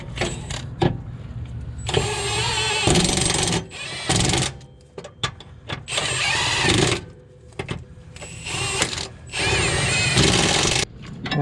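A power tool tightening sway bar end links on a car during roadside repair work, several whirring, rattling bursts of a few seconds each, loud and close, with short pauses between them.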